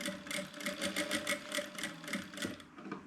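Sewing machine stitching a fabric apron strap, a continuous rhythmic chatter of the needle at a steady pace, close and moderately loud with no voices.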